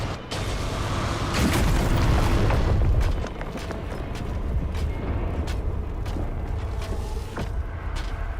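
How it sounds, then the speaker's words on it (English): A massive video-game explosion released by the Blighted Hell Knight after a slam attack: a loud sustained roaring blast for about three seconds, then a fading rumbling tail. "the Blighted Hell Knight will build up and release a massive explosion"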